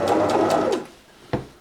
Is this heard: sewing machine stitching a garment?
yes